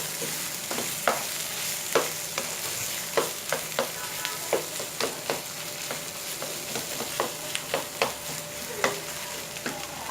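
Mashed potato with fried onions is stirred in a hot pan for aloo paratha filling, a soft steady sizzle punctuated by regular sharp scrapes and taps of the spatula roughly every half second, close and without talk.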